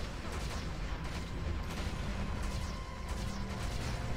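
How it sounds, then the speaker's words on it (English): Rapid volleys of magic missiles fired during a fight in the video game Baldur's Gate: Dark Alliance, bursts of crackling impacts layered over dense battle noise at moderate loudness. "Lots of missiles!"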